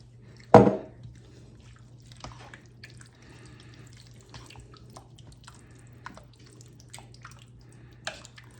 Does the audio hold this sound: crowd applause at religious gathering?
no